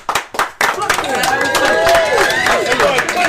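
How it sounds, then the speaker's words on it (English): Clapping from a soundboard button during a livestream, a short burst of crowd-style applause rising from a few claps into steady clapping, with voices talking over it. "Can I get a hand clap or something?"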